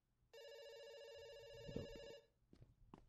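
Telephone ringing in a video game, a single sustained electronic bell tone lasting about two seconds, clear and fairly close, followed by a few soft handling knocks.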